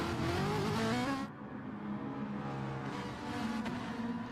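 A race car in a racing video game at Red Bull Ring heads out with a loud, sustained engine drone that shifts pitch as it accelerates, steady and close throughout.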